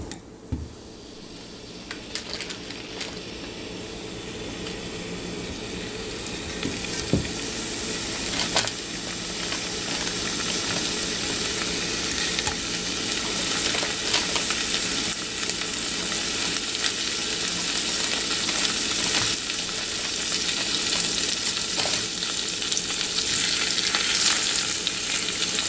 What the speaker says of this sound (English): And now we will fry this paneer very light golden brown.